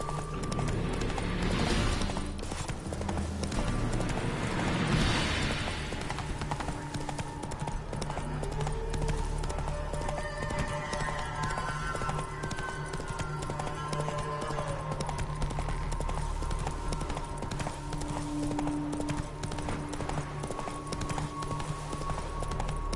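Hooves of the horse Roach from the video game The Witcher 3 clip-clop at a steady walking rhythm, close and clear, over a continuous bed of game music and outdoor ambience.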